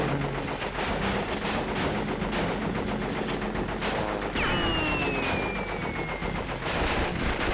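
Rapid bursts of enemy gunfire in the video game Crash Bandicoot: Warped crackle densely and continuously, with explosive hits and a falling whistling tone partway through.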